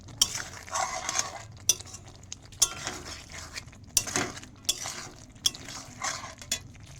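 Taro (kochur mukhi) with sour yogurt is stir-fried in a pan: repeated sharp metal spatula scrapes and clinks against the pan over a soft continuous sizzle, close and fairly loud, with no talking.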